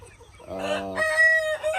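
Free-range chickens cluck nearby, a rooster-like call rising in two bright, harmonic bursts over a quiet background, loud and close.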